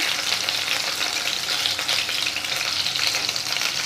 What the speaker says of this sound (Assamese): ৰংচোৱা হোৱালৈকে ভাজি থাকিম।